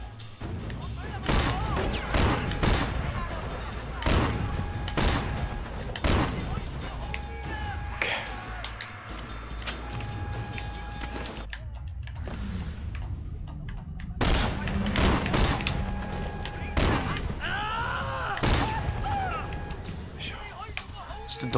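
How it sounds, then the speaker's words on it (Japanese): Shotgun fire in the Hong Kong action game Sleeping Dogs, sharp blasts and thuds repeating amid continuous game noise and effects, loud and busy throughout. "あれ、これショットガンか。"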